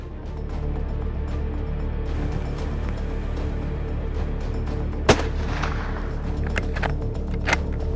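A silenced hunting rifle fires during a wild boar hunt: one sharp, loud report about two-thirds through and a fainter crack near the end, both over a steady outdoor rumble with no voices.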